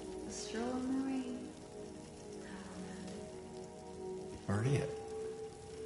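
Steady rain hisses in the video game Silent Hill 2, a soft wash under tonal game music while someone speaks briefly over it.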